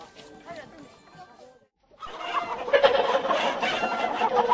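A hen clucks and squawks, choppy fowl calls at first, a brief near-silent gap, then a louder burst of busy clucking and chatter from the bird.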